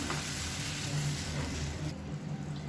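Tomato and onion being stirred into mashed sambar in a hot pan give a steady, close sizzling hiss with soft scraping, continuous throughout with no voices.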